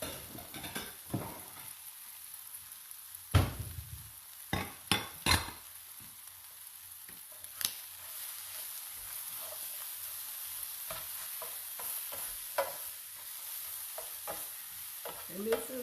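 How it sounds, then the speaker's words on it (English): Garlic spinach sautés in a pan with a continuous hiss, broken by frequent scraping and clinking of a utensil stirring against the pan, with no talk. "And this is garlic sauteed spinach."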